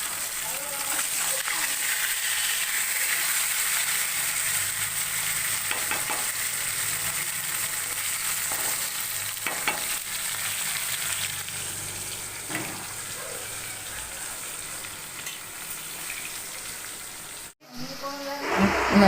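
Fish frying in a pan at home, a steady close sizzle with occasional spatters and stirring scrapes, running evenly before an abrupt cut near the end.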